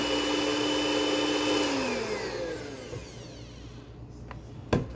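An electric mixer whirs steadily in thick batter, then winds down and stops as its pitch falls away, followed by a couple of sharp knocks.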